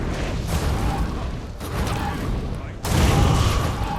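Cannon fire from bandits in the video game Guild Wars 2 comes through as a dense stretch of booming bursts and mechanical clatter, with a louder surge near the end and continuous game noise throughout.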